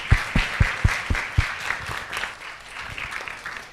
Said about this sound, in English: Can we first give a round of applause for our amazing round of